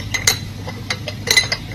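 Batter of milk, flour and granulated yeast being stirred in a bowl, with a series of light clinks and taps of utensil against dish at uneven intervals, close and moderately loud.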